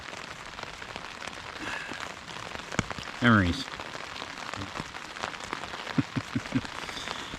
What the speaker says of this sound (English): the rain has slowed a little bit